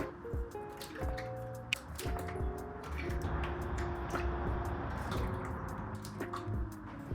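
Five eggs are whisked together in a bowl, giving rapid, repeated wet clicks and squishy strokes at a moderate level over a faint tonal hum.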